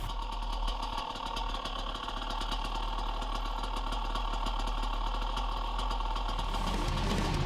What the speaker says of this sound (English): letting the bike sit there and idle